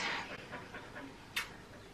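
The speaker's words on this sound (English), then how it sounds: "you lie under the camera and pant so that they can all hear the panting in the background" A dog panting close by in a quiet room, a steady run of quick breathy huffs with a brief sharper sound near the end and no talking.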